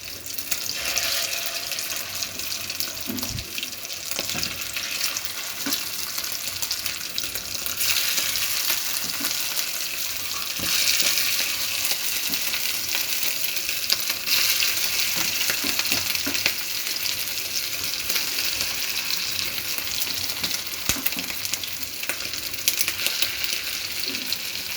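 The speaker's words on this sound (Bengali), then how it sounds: "এবার একে একে চপগুলা ভেজে নেব আমি সুন্দর করে" Fish roe chops fry in hot soybean oil, a steady close sizzle and bubbling that runs unbroken throughout with occasional faint clinks.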